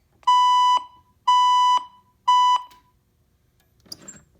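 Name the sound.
Fire-Lite fire alarm system sounding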